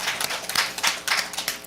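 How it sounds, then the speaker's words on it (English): A brief round of applause at a town council meeting, a modest group clapping in quick irregular bursts, fairly close and moderately loud with no talk. "So can we please give Mr. Tonelli and Tina a round of applause?"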